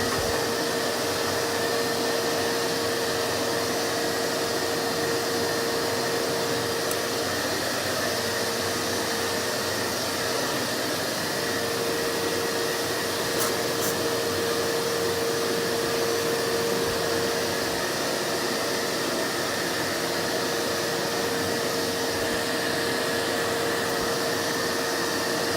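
A vacuum hose runs continuously while bees are sucked out of a mechanical box, a loud steady roaring whoosh with a constant hum throughout, close up and without talking.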